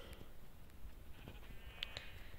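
Sheep in the Minecraft video game bleat faintly over a quiet, hissy background, with short cries rising now and then.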